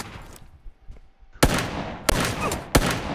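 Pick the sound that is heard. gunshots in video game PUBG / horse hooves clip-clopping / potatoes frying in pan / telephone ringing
gunshots in video game PUBG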